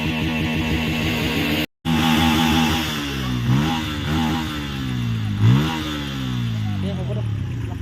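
A motorcycle engine revs repeatedly nearby, rising and falling in loud surges over a steady idling drone.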